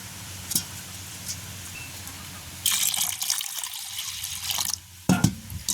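Soaked lentils being washed in water in a village kitchen, quiet splashing and swishing at first, then a louder burst of running, pouring water that stops briefly and resumes.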